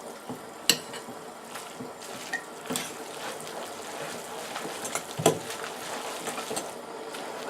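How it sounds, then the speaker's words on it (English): A spoon stirs omuramen ingredients together in a pot, producing faint, irregular scraping and wet mixing sounds with a few sharper clinks, low in level and heard alone. "And then you'll want to stir that up."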